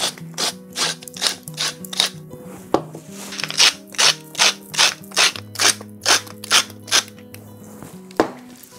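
Pâté mixture of catfish, bacon, ginger, nutmeg, salt and pepper stirred in a bowl, a steady run of about fifteen crisp, evenly spaced scraping strokes close by, with no talking.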